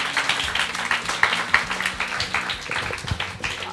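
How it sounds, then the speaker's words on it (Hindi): Children at an orphanage in Lahore clapping together, a moderate burst of uneven claps with some voices mixed in. "तालियां बजाओ ना मेरे लिए दोस्तों मेरे।"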